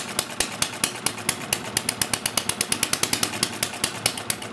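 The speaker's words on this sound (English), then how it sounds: "See how the governor reacts by giving more gas to the engine?" A small engine fitted with a governor and a flywheel runs under load, giving a steady rapid stream of loud, regular firing pulses, close and alone.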